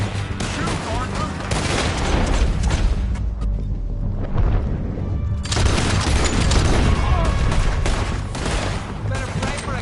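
Dense gunfire in the Red Dead Redemption 2 video game, a loud sustained volley of overlapping shots and booms that dips briefly mid-clip before resuming, with shouting voices mixed in.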